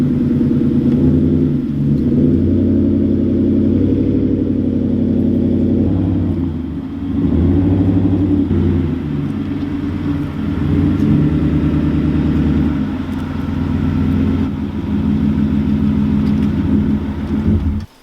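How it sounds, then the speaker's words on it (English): A pickup truck's engine idles and rumbles steadily close by as the truck is driven a short way into position on a homestead, with a slight rise in revs partway through and no talking. "So let me move the truck up there and we'll get started."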